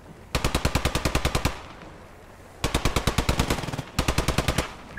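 An MG42 machine gun in the WWII game Post Scriptum fires at a half-track: three long, rapid bursts of sharp shots, loud and close, separated by short pauses, with no talking over them.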